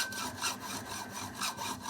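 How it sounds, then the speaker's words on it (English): A saw cuts a rain barrel filter housing into top and bottom halves, loud rhythmic back-and-forth rasping strokes, about four to five per second, close and alone. "now that the holes are machined, we can make a cut and separate the top and bottom halves"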